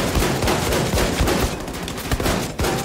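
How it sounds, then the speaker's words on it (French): Rapid gunfire in the Wolfenstein II video game: a dense burst of repeated sharp shots in quick automatic succession, loud and close, with a brief pause before firing resumes. "Ah, c'est méchant comme flingue, faut juste que je vise un peu mieux."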